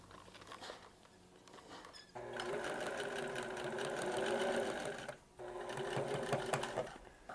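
A sewing machine runs in steady, rapid bursts while stitching down the top of a shirt placket, close and continuous, pausing briefly between two long runs after a quiet start.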